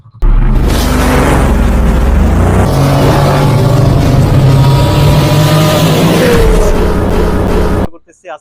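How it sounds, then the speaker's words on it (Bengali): A low-budget motorcycle fires up with a single press of the electric start, then its engine runs loud and close in a steady rev for several seconds before cutting off. "জাস্ট একটা ক্লিক করছি গাড়ি স্টার্ট"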